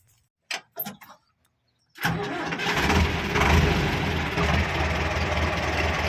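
An Ursus 1014 tractor engine catches after a few short clicks and knocks, then runs loud and steady as a deep, close diesel rumble to the end.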